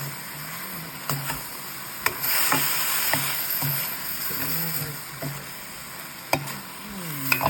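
Chicken giblets stir-fried with basil and holy basil leaves in a pan, a steady close sizzle with repeated scraping stirs and spatula clinks throughout, no talking.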